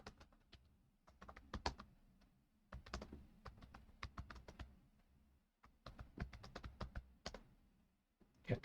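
Quick, irregular bursts of clicking keystrokes on a computer keyboard while someone programs a simple function block, close and quiet, with short pauses between runs of typing.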